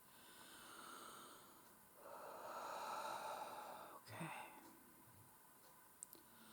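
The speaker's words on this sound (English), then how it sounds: "That's my dog snoring in the background" A dog snores in the background, a soft rasping drone that rises for a few seconds in the middle, with short sniffs and snorts toward the end.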